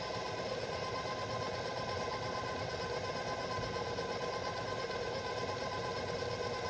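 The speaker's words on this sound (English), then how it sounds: "I will mix it about 3/4 of the way and then stop the mixer" An electric mixer beats biscotti dough with a continuous, steady motorized whirring and rattling, close and constant throughout, with no talking.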